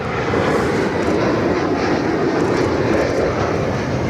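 Steady loud roar of military jet aircraft at RAAF Williamtown, a continuous broadband engine rumble with no breaks and no speech over it.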